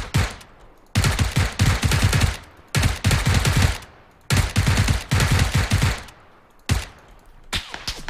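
Several loud bursts of rapid automatic gunfire in the video game PlayerUnknown's Battlegrounds, separated by short pauses, close and harsh, with no voices.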